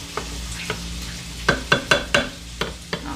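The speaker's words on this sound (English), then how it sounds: "I'm just going to stir that around and get it all mixed up" A spoon clinks and scrapes through gravy mix and water in a dish, with about ten sharp taps in quick uneven bursts, close and fairly quiet, with no voices.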